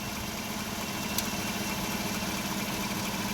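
A 2014 Chevy Silverado engine idles under load, a steady, even rumbling hum that holds unchanged throughout, with no one speaking.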